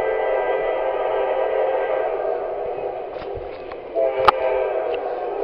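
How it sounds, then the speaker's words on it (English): A westbound train rumbles steadily past in Chesterton, a continuous close roar of rolling cars, with a sharp short horn blast near the end. "We have another train here in Chesterton."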